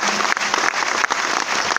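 Loud, dense applause from a seminar audience in a meeting hall, rapid continuous clapping close by with no voices over it.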